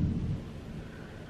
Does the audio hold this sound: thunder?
yes